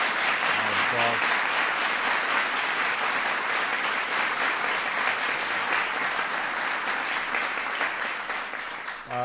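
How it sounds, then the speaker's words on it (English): A crowd applauds steadily and loudly at a President Obama speech on the Affordable Care Act, sustained clapping filling the space before tapering off near the end. "Please give Nancy a round of applause."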